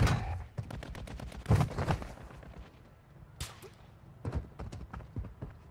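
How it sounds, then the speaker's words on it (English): Gunfire in the mobile shooter Warzone Mobile, with rapid bursts of sharp shots and cracks scattered across the clip, fairly quiet overall, some volleys clustered close together and others spaced apart. "Where are you shooting at?"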